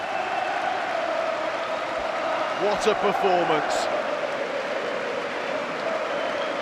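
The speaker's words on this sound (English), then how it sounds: "Raúl Jimenez will get a worthy standing ovation and even applause from Nuno." Stadium crowd at a Premier League match between Wolves and Manchester United applauds Raúl Jiménez in a standing ovation late in the game, a steady wash of clapping under a commentator's voice.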